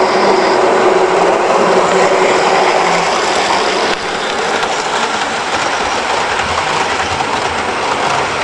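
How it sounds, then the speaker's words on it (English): A G-scale model train runs on a garden railway, giving a steady, continuous rolling rumble with faint rail clatter throughout, fairly close and with no talking. "There's one of the trains going under the new section now."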